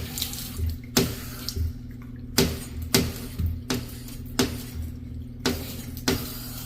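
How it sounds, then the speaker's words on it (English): Water runs from a bathroom faucet into a sink in a poorly renovated flip house, a steady close stream broken by several sharp splashing bursts and faint clinks, with no talking. "So I ran the water, checked everything underneath."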